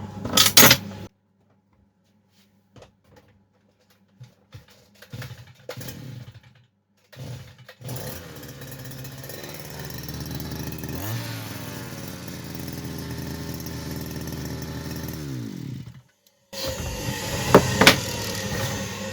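A FORTE petrol brush cutter with a freshly replaced plug sputters through a few start attempts, then its small two-stroke engine idles steadily up close before revving loudly near the end.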